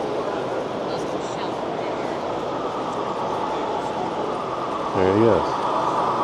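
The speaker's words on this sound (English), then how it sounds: "There's a little train going through." An HO scale model train runs through a display layout at a New York State model train fair, a steady low rumble under constant crowd chatter, with a voice speaking briefly near the end.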